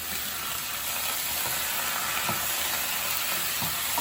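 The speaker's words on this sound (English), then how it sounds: "Now I'm going to add the cooking wine." Baby bok choy with garlic sizzles in a hot pan or wok as cooking wine goes in, a steady close frying hiss with faint stirring clicks throughout.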